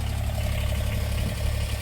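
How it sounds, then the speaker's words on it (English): A generator engine idles in the background, giving a constant low rumbling hum with no breaks and no change in pitch. "You can hear an engine in the background."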